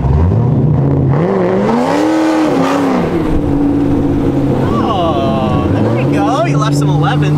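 A Corvette engine revs hard and repeatedly to burn oil out of its exhaust, loud and close, the pitch climbing and falling through several sweeps with a steady idle drone between them.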